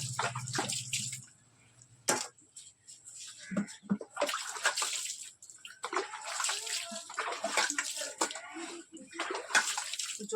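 Water runs from a tap at low pressure, splashing and sloshing unevenly into a vessel at close range, with brief pauses between streams.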